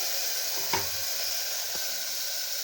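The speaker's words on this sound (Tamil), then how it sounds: "இது நல்லா கிளறி விடலாங்க." Garlic, green chillies and tomato frying in a pan for a green chilli and green gram curry, with a steady sizzle and a couple of brief stirring scrapes.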